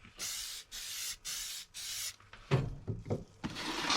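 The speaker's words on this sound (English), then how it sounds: "This right here is bracket that I'm painting now." A battery bracket being spray painted black: four even bursts of aerosol hiss in steady rhythm, close and fairly loud, followed by irregular rubbing and handling noises and one more spray burst at the end.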